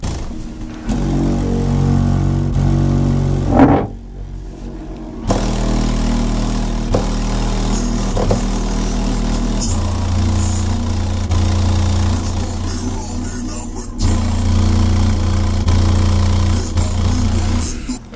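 A reconed Sundown SA-12 subwoofer plays loud in its box, heavy sustained bass booming steadily for most of the stretch with a brief dropout midway, close and powerful with no talk.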